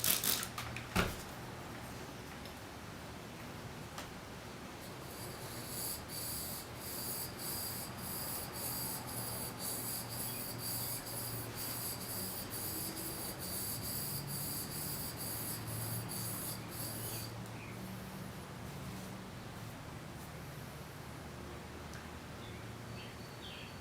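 Steel block plane blade honed on a sharpening stone, a steady continuous rubbing and scraping that runs for about twenty seconds at an even level, with no talk over it.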